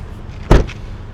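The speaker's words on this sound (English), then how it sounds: "let's listen to the sound of the closing door" A single solid car door of a 2027 Kia Seltos X-Line S shuts with a short, heavy thump around the midpoint, with quiet background before and after.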